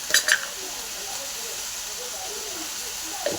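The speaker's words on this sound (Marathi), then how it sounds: "जेवढा चांगला त्याला फ्राय करून घेतलं" Green bean vegetable dish frying in a pan, a soft steady hiss with brief clinks of a utensil at the start and end, close and moderately quiet.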